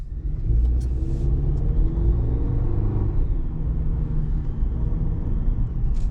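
Chevrolet Silverado 2.7-litre high-output turbo engine turning over and settling into a steady low rumble from inside the truck, loud and continuous with no talking.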